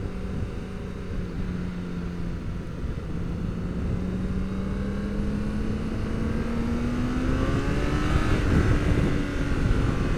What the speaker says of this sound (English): it's just nice smooth on the throttle